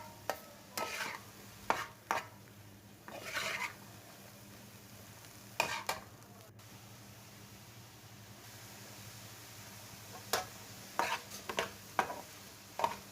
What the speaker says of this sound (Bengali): সবগুলা একসাথে ভেজে নিচ্ছি ভালোভাবে।